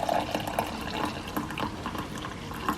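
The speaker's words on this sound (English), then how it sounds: "I'll pour my cup of coffee." Hot coffee being poured into a cup in a cozy morning kitchen, a soft gurgling trickle of liquid with small splashes, fairly quiet and up close.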